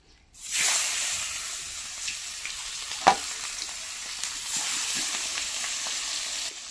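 Fish rubbed with salt and turmeric dropped into hot oil in a pan, bursting into a loud, steady close sizzle that continues throughout, with a small clatter partway through.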